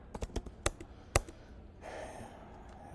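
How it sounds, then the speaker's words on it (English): Several quick taps on a computer keyboard in an uneven burst, close and crisp, fading into a soft breathy rustle with no talking. "so I'm going to go ahead and start typing this."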